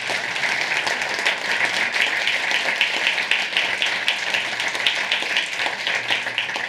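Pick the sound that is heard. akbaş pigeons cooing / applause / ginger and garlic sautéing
applause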